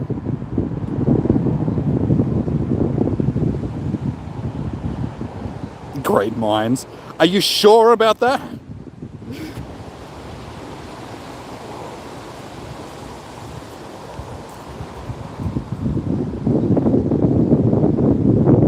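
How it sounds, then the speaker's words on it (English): Gusty wind blows outdoors on a hot, windy day, a steady low roar at the start and again at the end, with someone talking in the middle. "as you can hear, it's windy as well"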